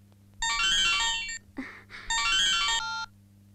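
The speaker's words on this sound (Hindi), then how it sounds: "तोर फोन आछी" A mobile phone ringtone in an Odia movie scene plays a bright electronic melody in two bursts with a short gap between them. It is loud and clear over a low hum, with no speech.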